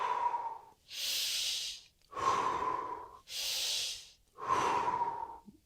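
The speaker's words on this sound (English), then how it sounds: "you inhale belly, chest. And then with pursed lips, you exhale." Tummo breathing practice: deep belly-and-chest inhales alternating with long hissing exhales through pursed lips, about five breaths in a steady close rhythm, with no talking.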